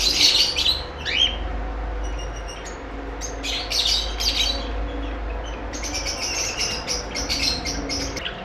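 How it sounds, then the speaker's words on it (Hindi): Zebra finches, white finches and Bengalese finches chirping together, a busy stream of short high tweets and calls over a low steady hum, close and lively throughout. "ज़ेब्रा फिंच है, वाइट फिंच है, बेंगलाइज है।"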